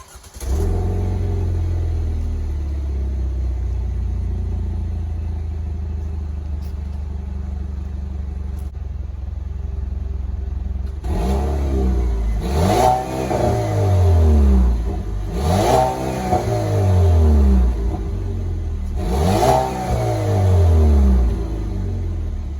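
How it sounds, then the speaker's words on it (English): A 2019 Chevrolet Equinox Redline SUV engine idles with a deep rumble, then revs sharply four times in a row, each rev rising and falling back to idle, close and loud. "let's get to some cold starts and some revs"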